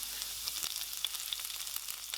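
Green chilli, ginger and garlic fry in oil in a kadai over high flame, giving a steady close crackling sizzle with sharp pops here and there, no voices.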